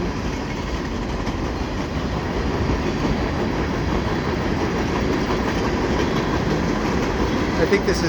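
A CP freight train, likely train 133, rolls westbound past a footbridge over Des Sources Blvd, giving a steady loud rumble of railcars with a faint rhythmic clatter throughout, close by.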